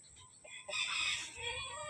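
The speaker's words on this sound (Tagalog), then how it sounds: "Ito, ang mga alaga naming manok." Chickens cluck and call nearby, a brief burst of squawking fowl sounds over quiet background.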